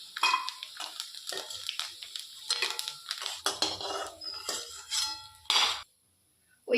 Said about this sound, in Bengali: এবারে নারকেলের পিসগুলো আমি তুলে নেব।